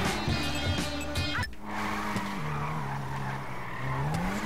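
A Nissan R34 GTR drifts in GTA 5, its engine revving hard before a long, loud tire squeal that slides in pitch as the car skids sideways.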